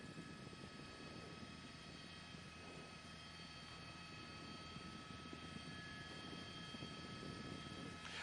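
A news helicopter hovers over a high-speed police pursuit of an armed carjacking suspect in the Van Nuys area of Los Angeles, its steady rotor and engine drone continuous and fairly faint throughout, with no talk.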